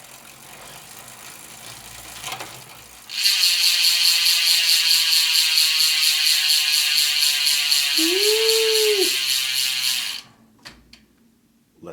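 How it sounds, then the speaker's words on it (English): A Yishun 50 deep carbon road bicycle wheel with a 36-tooth ratchet freehub spins, producing a loud, rapid, continuous buzzing click for about seven seconds before abruptly stopping; a brief tonal squeak rises and falls midway. "Free hub sound tests on these Yishun 50 deep wheels"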